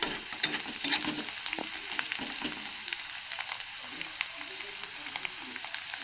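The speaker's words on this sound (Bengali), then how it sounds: "শাক ভাজার জন্য পেঁয়াজ লঙ্কা ভাজছি" Onion and green chili frying in a pan for a leafy greens dish, a steady close sizzle with occasional stirring scrapes and faint background murmur.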